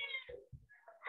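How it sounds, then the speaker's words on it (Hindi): A cat meows once or twice in a quick, faint, drawn-out call lasting about a second, with no talk over it. "मेरी बिल्ली चिल्ला रही है यार"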